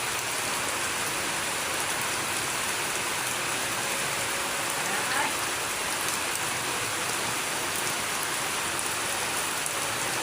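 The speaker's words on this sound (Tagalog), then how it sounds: "Ulan pa mga idol." Steady rain pattering down, a continuous dense hiss of drops on surfaces with no voices, even in loudness throughout.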